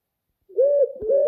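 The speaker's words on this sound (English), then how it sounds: "Pigeon." After a moment of silence, a pigeon gives a soft, low cooing call, two smooth rolling coos close by.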